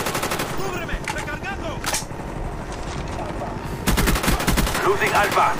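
AK-74U gunfire in Black Ops Domination on the Villa map, rapid automatic bursts rattling close and loud in quick runs, with someone talking over the shooting.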